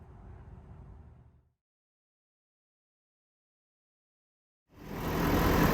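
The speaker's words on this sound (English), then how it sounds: "I've got the engine running right now" A 2022 Ford F-350 6.7L turbo diesel's low engine rumble idles, cuts to dead silence for a few seconds, then returns louder and fuller, a steady close drone.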